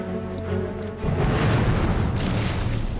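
Hand grenades explode in a wartime passageway, a low rumble giving way to a loud, sustained booming roar that carries to the end.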